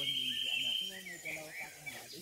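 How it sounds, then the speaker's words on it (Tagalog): Birds chirp and sing from the slopes below a mountain peak in La Union, a steady high twittering over a low hum, with a voice murmuring underneath. "Habang pinapakinggan yung mga ibon sa baba."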